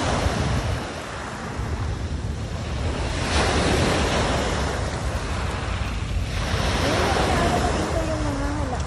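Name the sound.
waves crashing at Manila Bay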